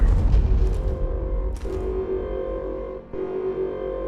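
An explosion in Mass Effect 2 booms loud and low at the start, with a rumbling tail and a few sharper blasts around it amid steady game noise and a low hum.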